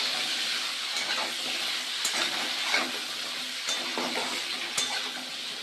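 Broad beans and eggplant sizzle steadily in hot oil with whole spices, a close, continuous frying hiss with soft stirring scrapes and small pops throughout.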